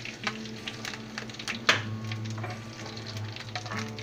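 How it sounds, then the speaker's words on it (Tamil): Broken red chillies and curry leaves fry quietly in a pan for peanut chutney, a low sizzle broken by light scraping stirs and one sharper clatter. "சிகப்பு மிளகாய் கொஞ்சம் உடச்சி போடுறோம், அடுத்தது கருவேப்பிலை லேசாக கிளறி விட்டோம்னா போதும்"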